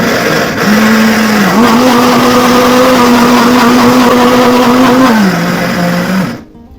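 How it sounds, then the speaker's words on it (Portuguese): A blender whirs loudly up close, blending germinated sunflower seeds, its motor pitch rising and dipping slightly as it runs for several seconds before cutting off. "A gente dá uma chacoalhada no liquidificador para que ela bata bem"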